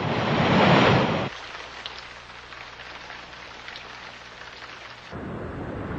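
Heavy tropical rain in a thunderstorm, opening with a loud rumbling roar of thunder and downpour, easing to a steady hiss of rain, then swelling again into a heavier roar.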